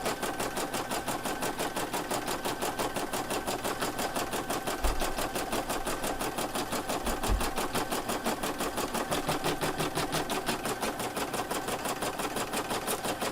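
An embroidery sewing machine stitches at reduced speed, working a bag in the hoop. Its rapid, even mechanical ticking continues nonstop and close, with a faint low hum beneath it.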